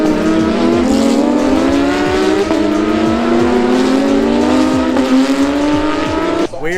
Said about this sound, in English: They started the practice for the first Porsche Cups and they are so loud.